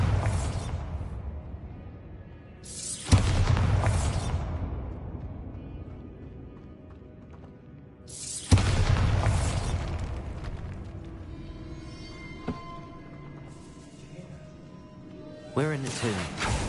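Bombarda spells going off in Hogwarts Legacy, inside a tomb: three sharp, booming blasts, each trailing into a rumbling decay, with quieter magical whooshes and effects between them.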